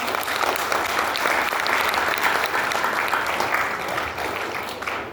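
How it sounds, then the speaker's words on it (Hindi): A crowd at a company event launching a new kids' product claps loudly and continuously, a thick wash of applause that stays steady for about five seconds before easing slightly at the end. "इसके लिए जोरदार ताली बनती है।"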